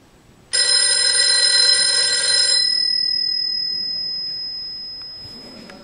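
An old-fashioned telephone bell rings once, loud and close, in a single sustained burst of about two seconds, then a long ringing tone fades out slowly in an otherwise quiet room.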